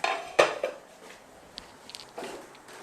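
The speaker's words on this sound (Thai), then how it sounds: "ไปหยิบฝาหม้อมาเผื่อจะได้มาปิดแบบนี้นะคะ" Metal pot lid clattering and clinking against a pan on a stove while preparing a pan pizza, a sharp clang followed by a few lighter scattered taps, close and otherwise quiet.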